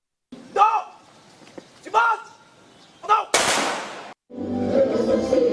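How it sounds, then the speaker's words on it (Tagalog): Three sharp bangs of a gunfire salute ring out at steady intervals, each with a short echo, followed by a long rushing burst and continuing noisy background, at an Independence Day celebration. "Umalingaw-ngaw ang putok"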